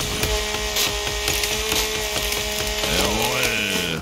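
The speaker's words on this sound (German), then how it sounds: "dass ich diese Kettensäge liebe? Das Holzfällen ist so nice." A chainsaw in The Forest video game cuts through trees with a sustained whining drone and dense splintering crackle, then the engine pitch sweeps up and down as the cut finishes.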